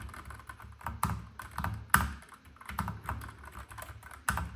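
Typing on a K3 Ultra 8K wireless keyboard with a multi-layer foam build: steady, close-up keystrokes with soft, muffled clacks in an uneven rhythm, heard alone without any talking.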